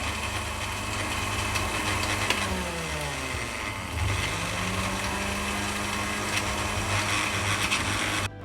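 An electric grinder pulverising roasted dry spices into powder for beef haleem, a steady close motor whine that dips briefly midway and then spins back up, continuing to the end.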